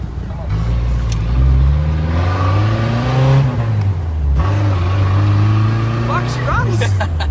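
A Jackaroo 4WD with an upgraded exhaust on its first drive, the engine droning near and loud as it accelerates and shifts through gears in repeated rising revs, with someone speaking briefly.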